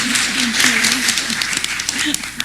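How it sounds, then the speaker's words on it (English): Conference audience clapping in a large hall during a family medicine plenary, a brief burst of dense applause under a speaking voice. "claps."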